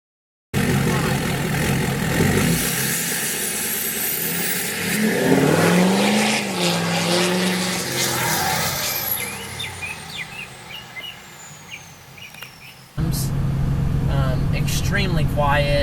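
A straight-piped 2011 Ford F-250 with the 6.7 Powerstroke diesel cruising around 1,000 RPM: a low, steady engine drone inside the cab with some rising whine, heard under someone talking throughout.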